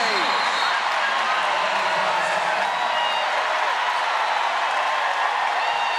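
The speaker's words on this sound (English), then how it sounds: "The crowd erupts here in Moody Center" An arena crowd at Moody Center roars during a Texas vs. Alabama women's NCAA second-round basketball game, a dense, sustained wash of cheering and noise that stays loud throughout.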